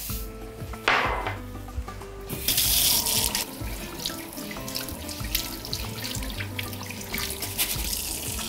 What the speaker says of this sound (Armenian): Լվանում ենք հոսող ջրի տակ։